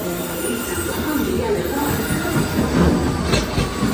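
A London train running on rails, giving a continuous loud rumble with wheel noise and faint squeal throughout, heard close up from on board.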